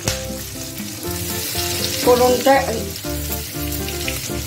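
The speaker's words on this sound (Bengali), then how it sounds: "এলাচ, দারচিনি, লবঙ্গ, গোলমরিচ, গোটা জিরে সব ফোড়ন দিচ্ছি" Whole cardamom, cinnamon, cloves, black pepper and cumin seeds crackle and sizzle in hot oil for a fish-roe curry, a steady frying hiss running beneath prominent background music.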